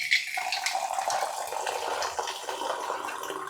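Hot water is poured at home, a faint continuous splashing trickle that stays steady throughout with no voices.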